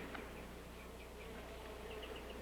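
A swarm of bees buzzes in a steady, dense drone with faint higher whines rising now and then over a low constant hum, quiet and unbroken.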